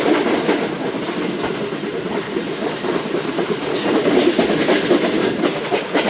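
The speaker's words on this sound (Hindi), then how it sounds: "माशीकोट अप्रोच कर रही है दोस्तों ट्रेन" The Shalimar Express approaches Mashikot station with a loud, close, continuous rumble and rhythmic wheel clatter over the rails, steady throughout with no voices.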